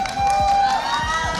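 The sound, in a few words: crowd applause at an esports championship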